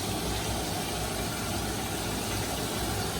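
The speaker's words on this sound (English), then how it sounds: "The noises you hear in the background are water boiling for my mashed potatoes and the chicken fried steak that's in the cast iron on the oil" Water boiling for mashed potatoes alongside chicken fried steak frying in oil in a cast iron skillet, giving a dense, constant sizzling hiss that fills the whole stretch with no talk.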